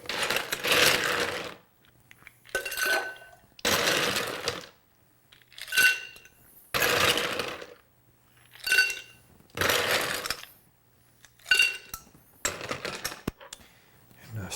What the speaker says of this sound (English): Now we're going to add our ice.